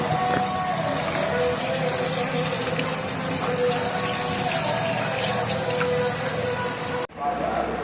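Water running steadily into a container to soak leafy greens, a continuous close splashing rush that stops abruptly near the end.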